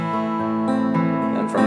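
Acoustic guitar fingerpicking a familiar song's pattern, a steady flow of plucked notes ringing into each other, played alone and close.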